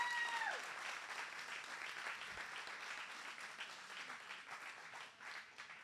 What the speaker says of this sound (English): why don't we give a big round of applause for E for All and everything that these guys have